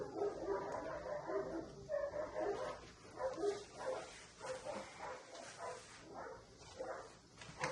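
Several dogs at a house bark and yip at people moving in the woods behind it, repeated bursts heard from a moderate distance, fairly faint, with some whimpering between barks.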